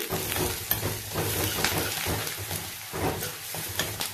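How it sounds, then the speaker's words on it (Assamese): Ground spices, garam masala, red chili powder and a little coriander powder, fry in a hot pan for a jackfruit curry, giving a steady close sizzle and crackle with brief louder spits and no talk. "এইখিনি মই এতিয়া সুন্দৰকৈ এনেকৈ ভাজি ল'ম"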